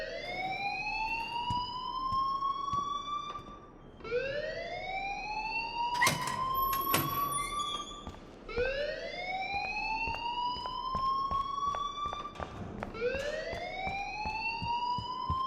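A school fire alarm in the video game Life is Strange wails in repeated rising sweeps, each about four seconds long, loud and continuous, with faint clicks and knocks underneath.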